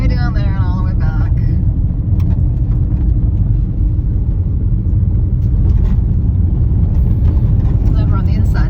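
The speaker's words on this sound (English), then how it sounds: "Join us inside the car as we do some of this traveling down these roads." Constant low road rumble and engine drone heard from inside a car driving Iceland's roads, loud and steady throughout, with brief faint higher squeaks early on and no clear talk.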